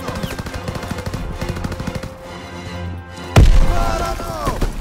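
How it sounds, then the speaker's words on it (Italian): Rapid machine-gun bursts in Call of Duty: WWII during a D-Day mission on PS4, a dense stream of loud rattling shots, then a heavy blast followed by ringing debris. "Sparano!"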